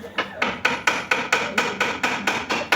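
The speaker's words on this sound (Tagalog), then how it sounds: "pukpok para mapasok" A hammer strikes a car's lower-arm ball joint to seat it during hub bearing and ball joint replacement, about ten sharp metallic blows in an even, quick rhythm, close and loud with no talk.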